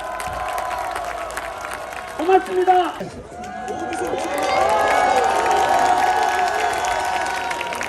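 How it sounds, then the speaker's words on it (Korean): A rally crowd at night applauds and cheers for police officers, a broad steady roar of clapping and voices that swells after a brief pause, with someone speaking over the start. "우리 경찰관분들께 큰 박수 한번 해주십시오"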